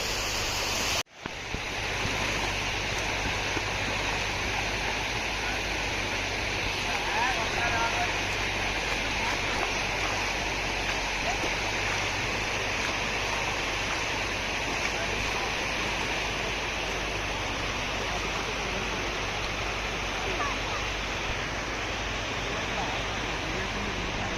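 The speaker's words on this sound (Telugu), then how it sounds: "సిక్స్ ఓ క్లాక్ కూడా వాటర్ ఫ్లో చాలా చాలానే నడుస్తుంది" Heavy water flowing across a road in the evening makes a steady, dense roaring rush that holds unbroken for over twenty seconds after a brief dropout at the start, loud and near.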